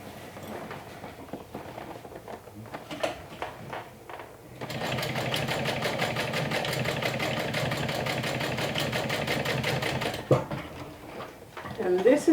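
A sewing machine stitches down a fabric handle on a weekender bag, running in one steady, fast rapid-fire whir for several seconds after some handling and fabric rustling, then stopping.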